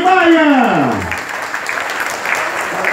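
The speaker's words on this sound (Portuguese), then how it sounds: "vamos receber aí, com a salva de palmas, o prefeito Fred Maia" Crowd applause welcoming the mayor at a rural workers' celebration in Trizidela do Vale, Brazil, rising after a falling shouted voice and continuing as a broad, moderately loud clatter of clapping.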